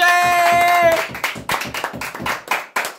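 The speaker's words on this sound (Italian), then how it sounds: "Facciamo un applauso a Vincenzo." A small group of friends claps in rhythmic unison for a birthday at a house, sharp close hand claps in a steady beat following a brief held sung note, with voices mixed in.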